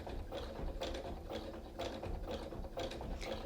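A sewing machine zigzag-stitching coiled rope for an oval basket, a close, rhythmic mechanical clatter pulsing in regular bursts about twice per second.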